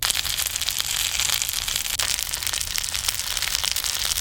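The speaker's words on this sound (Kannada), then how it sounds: "ಎರಡು ಸೈಡ್ ಕೂಡ ಚಂದ ಮಾಡಿ ಫ್ರೈ ಮಾಡಿದ್ದೇನೆ" Karimeen (pearl spot fish) shallow-frying in oil on a tawa, a dense continuous sizzle with sharp crackles and pops, close and steady.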